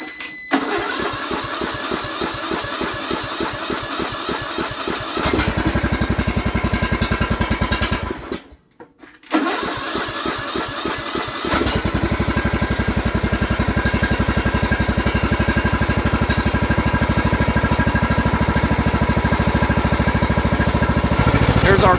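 A John Deere E100 lawn tractor engine cranks with a rapid starter chug, stops, cranks again and catches, then runs at a steady droning idle, close and loud.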